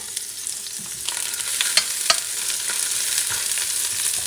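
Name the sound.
onions frying in extra virgin olive oil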